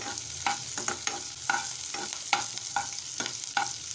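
Garlic, curry leaves and onion frying in a pan for a potato stir-fry, a steady sizzle broken by repeated sharp scrapes of a spoon stirring, close and alone without talk.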